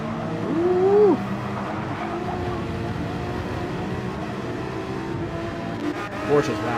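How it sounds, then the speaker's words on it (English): Porsche GR.3 race car engines in Gran Turismo 7 at Suzuka roar steadily and loudly throughout, with a rising engine pitch near the start and a brief surge near the end, mixed with overlapping engine noise from other cars. "Porsche's loud as shit, though."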